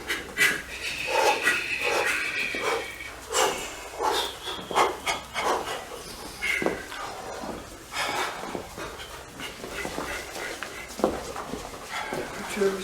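A group at a workshop breathes chaotically, with forceful, emphasized exhales in irregular, overlapping puffs and pants that run on steadily at close range.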